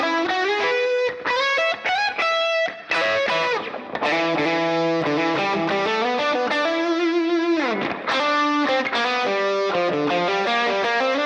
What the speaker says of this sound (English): I'm just testing one simple medium stage drive, so this is like a lead tone